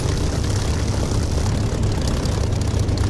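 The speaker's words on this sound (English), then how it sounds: "I'm now going to make a proper late takeoff" A propeller fighter in the DCS flight simulator game rolls into its takeoff, its engine a steady, loud, broadband roar with no break and no talk over it.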